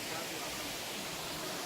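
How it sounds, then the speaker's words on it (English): Small waterfall at Naglapuram Waterfalls, a steady broadband rush of falling water close by, filling the whole short stretch without pause. "We thought it would be a big waterfalls, but no, it's too small."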